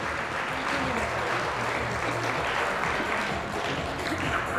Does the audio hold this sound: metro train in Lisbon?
no